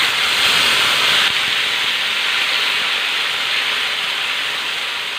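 Salted squid frying in hot oil in a wok, a loud, steady sizzling hiss that fills the whole stretch and fades slightly toward the end.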